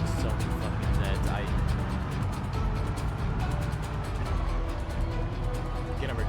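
A loud car drives in the zombie survival game Project Zomboid, its engine a steady low rumble that runs the whole time beneath someone talking.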